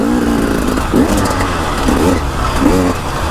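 A KTM dirt motorcycle climbs a steep hill at Laxey Mines, its engine revving hard and close with repeated rising-pitch surges over a constant buzzing drone.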